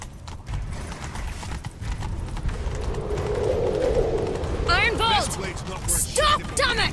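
A horse gallops in The Witcher 3 during a chase, giving a steady rhythmic pounding of hooves under game sound, with voices and sharp effects breaking in near the end.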